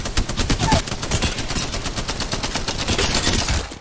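Rapid automatic gunfire in the video game Breaking Ankles Simulator, a loud, close, continuous stream of evenly spaced shots lasting several seconds with no pauses.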